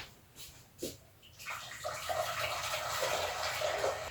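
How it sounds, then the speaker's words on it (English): Boiling water is poured into a saucepan, a steady splashing gush that starts after a couple of small clinks and runs continuously to the end, close and fairly quiet. "Pop this here and then pour in the boiling water."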